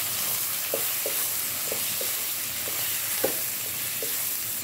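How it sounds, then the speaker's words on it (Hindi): Potato and aubergine sizzle steadily as they roast in a pan, a constant hiss broken by soft, regular stirring taps. "अब 2 मिनट इसकी भी भुनाई करेंगे"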